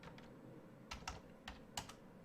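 Fingers tap out a handful of keys on a computer keyboard in a quiet room, the clicks close, crisp and irregular.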